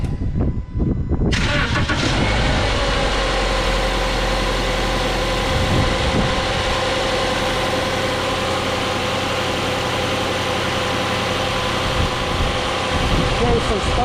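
A 2010 Subaru Outback with a newly replaced serpentine belt cranks briefly and starts, then settles into a loud, steady idle with a constant low drone and a brief rev dip partway through.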